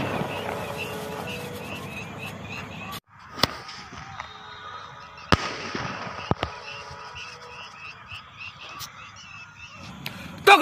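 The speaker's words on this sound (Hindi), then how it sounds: "एक स्काई शॉट ने कितना बड़ा धमाका किया था" Diwali sky shot firework going off: a loud fizzing, crackling burn that cuts out abruptly, followed by several sharp bangs and pops and lingering crackle, heard nearby outdoors.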